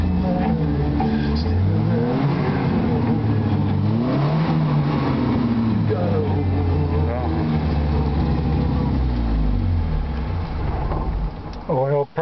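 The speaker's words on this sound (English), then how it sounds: "this is what it's going to idle like when it's warmed up" A 1965 Volvo engine, warmed up, runs at a steady idle throughout, a continuous low mechanical rumble with slight speed shifts, loud and close.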